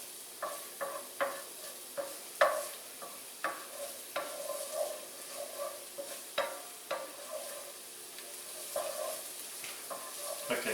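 Chopped green onions fry in a pan, a quiet steady sizzle with repeated soft scraping and stirring taps at an uneven rhythm.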